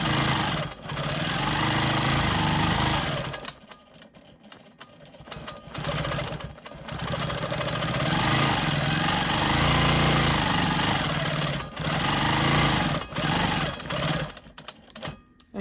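A sewing machine stitches smoky swirl quilting into light gray fabric, its needle running in steady loud bursts that stop and restart several times with short pauses between runs.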